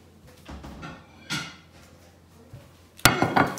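A plate fetched in a home kitchen: scattered clinks and knocks of dishes and cupboard handling, faint at first, then a sharp ceramic clatter and a few close knocks near the end, with no talk.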